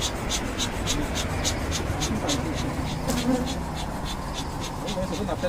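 Honeybees buzz densely at an open beehive, a loud, continuous close-up drone with wingbeat flickers throughout and a faint voice underneath.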